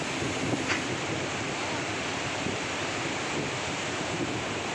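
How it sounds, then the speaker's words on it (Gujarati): The many streams of the Narmada river rush over rocks at Sahastradhara near Omkareshwar in a loud, unbroken roar of water, with wind buffeting the microphone throughout. "મા નર્મદાની હજારો ધારાઓ અહીં ખળખળ કરતી વહી રહી છે"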